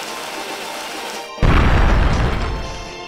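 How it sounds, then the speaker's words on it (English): An explosion blows open an entrance in the video game Radiant Historia: a sudden loud boom after a quiet stretch, followed by a rumbling, crashing tail that slowly fades. "We'll blow up the entrance and move in immediately."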